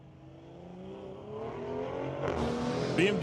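Street-legal Tesla and BMW drag racing at Mission Raceway Park, heard as a rising engine roar swelling louder from a distance over about three seconds, with a faint voice mixed in.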